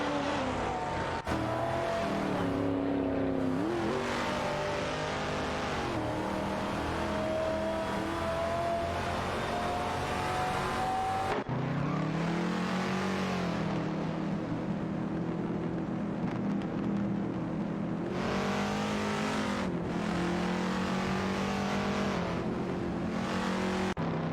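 Race cars in an AI racing game accelerating, with engine tones rising and shifting through gears in steady, loud, continuous bursts, a sharp cut or gear change near the middle, and no talk.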